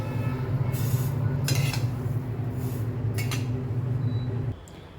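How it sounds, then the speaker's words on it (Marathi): Roasted sesame seeds tipped onto a plate for tilgul laddu bring a few bright metallic clinks and scrapes of a pan and utensil over a steady low kitchen hum that stops abruptly near the end. "एका प्लेटमध्ये काढून घेऊया."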